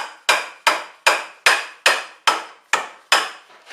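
A sand-filled dead blow hammer strikes a shovel head eight times in a steady rhythm, each blow a close, loud, dull thud that fades quickly, with no talking.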